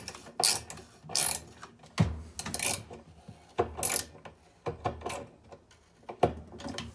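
A ratchet turns a bolt back into a washing machine agitator during reassembly, giving bursts of close, clicking mechanical ratcheting separated by short pauses, with no talking.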